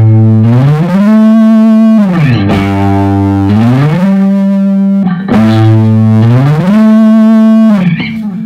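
An electric guitar with heavy distortion plays loud, sustained notes that slide slowly up and down the neck, gliding between pitches in two long repeated phrases with brief breaks between them.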